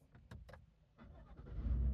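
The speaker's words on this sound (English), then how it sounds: "we'll start the vehicle up" A Chevy Tahoe engine cranks and catches after brief clicks, rising into a low idle rumble close by, with no talking.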